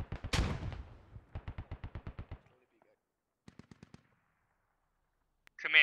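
Heavy infantry gunfire in the military shooter game Squad: a loud close burst of rapid automatic fire, then a steady string of single shots, a fainter distant volley a moment later, and a voice cutting in at the end.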